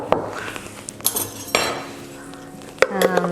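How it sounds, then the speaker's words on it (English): Utensil scraping and clinking against a Vitamix blender jar while sugar-free strawberry jam is spooned out, with several sharp knocks and scrapes over a few seconds, close and fairly loud, with faint background voice. "And then we're just taking everything out of our Vitamix jar."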